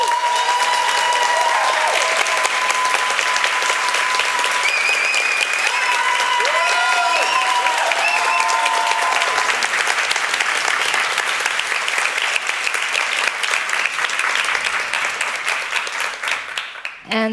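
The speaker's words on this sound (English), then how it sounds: "Please give them a big applause." Loud, continuous audience applause fills a hall at a photography masterclass presentation, steady clapping throughout with a few brief voices and whistles mixed in, fading slightly near the end.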